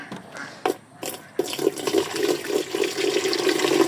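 A few light knocks, then water pours steadily into a container, splashing and gurgling as it fills.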